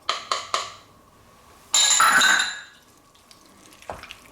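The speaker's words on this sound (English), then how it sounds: "our garlic and herb mix with olive oil. And we're just going to stir this in." A garlic and herb mix with olive oil is stirred into pasta, giving a few light clinks, a brief louder burst of wet mixing and scraping, then quiet handling.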